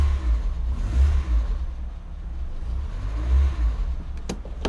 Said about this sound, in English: The valves are very loud.